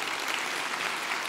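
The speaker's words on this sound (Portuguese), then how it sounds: "E vamos aplaudir a Jesus?" A large church congregation at a televised evangelical service applauds in praise of Jesus, a dense, even roar of clapping from many hands that holds steady throughout.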